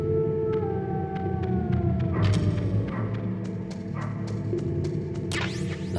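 Drawn-out howling from a wolf dog in the Metal Gear Solid video game rises and falls over steady game music, punctuated by several short sharp clicks and thuds.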